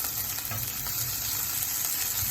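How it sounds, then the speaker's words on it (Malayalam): Ginger garlic paste roasts with onions in a pan for chicken kadai, a dense, even sizzle of frying close by that runs without a break. "ഒരു പകുതി വഴലുമ്പോൾ നമുക്ക് ജിഞ്ചർ ഗാർലിക് പേസ്റ്റ് ഇടാം അതൊന്ന് ഒന്ന് റോസ്റ്റ് ചെയ്യണം"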